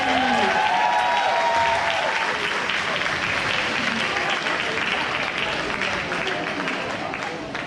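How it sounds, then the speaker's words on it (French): Sustained applause from a roller derby crowd honoring volunteers and organizers, a dense, loud wash of clapping that fills the whole stretch, with some cheering voices mixed in at the start and a gradual slight fade toward the end. "Est-ce qu'on peut les applaudir s'il vous plaît, les bénévoles, les organisateurs et tout?"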